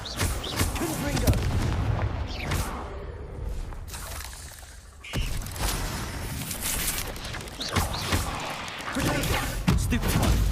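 Confringo blasting-spell explosions in the Hogwarts Legacy video game, heard as repeated heavy booms and thuds in quick succession, loud and close, mixed with other game effects.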